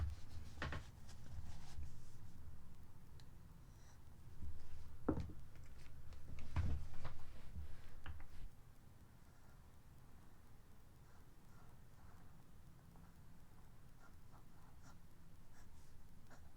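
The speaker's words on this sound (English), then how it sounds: "And now I'll write the same sentence without using any pressure." A fountain pen with a flex nib writing on paper, quiet scratchy strokes and small taps at close range, louder in the first half and then fainter and lighter.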